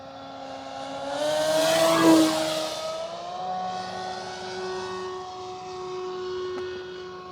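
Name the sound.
Hangar 9 PT-19 RC airplane flying on 6S power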